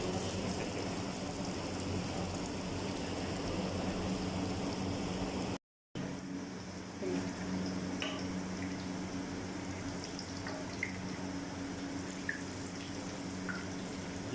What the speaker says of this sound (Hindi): तो इसको हम हल्की आंच में फ्राई करते हैं।